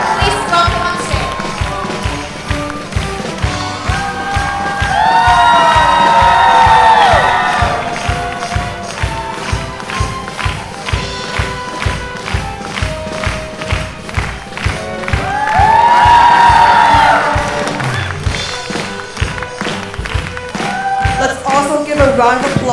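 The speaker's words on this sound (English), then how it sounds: "Round of applause to our live band off stage." Audience at a school fund-raising concert claps in a steady rhythmic beat for a long stretch, swelling twice into loud waves of cheering and children's shouting before settling back to clapping.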